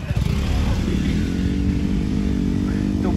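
A motorcycle rides off-road on a rough track near Nalagarh, its engine a loud, close, continuous drone with a steady mid-throttle rumble and rattling clatter throughout.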